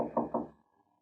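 Two quick, close knocks on a wooden back door in an old radio mystery drama, hollow and resonant, fading into quiet.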